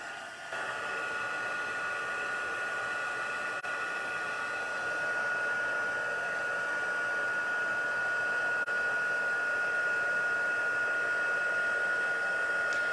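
A handheld heat tool blows hot air to melt white embossing powder on paper, a steady loud whooshing fan hum with a constant high whine, running unbroken for about twelve seconds after a brief start.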